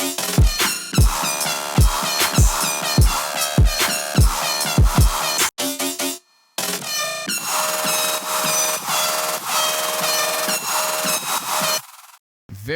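Soloed synth section from an electronic drop, dense and harsh with buzzy horn-like stabs, a run of sharp pulses early on, then sustained loud chaotic layers broken by brief dropouts.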